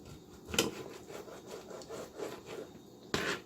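A knife slices a cod fillet into inch-wide, scallop-sized pieces, giving soft rasping cuts close by, with a couple of sharper strokes at the start and end of the run.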